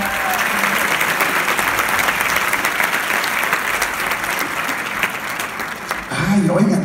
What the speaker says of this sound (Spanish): Un aplauso para Marco Guevara, que bien lo hizo